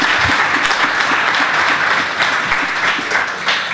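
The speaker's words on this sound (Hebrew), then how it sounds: "תנו לו מחיאות כפיים על זה." Sustained, dense audience applause fills the room at an event at the Hebrew University in Jerusalem, loud and steady throughout with no talk over it.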